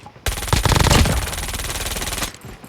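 A machine pistol fires a continuous, loud, rapid full-auto burst in a video game, holding for about two seconds before it stops abruptly.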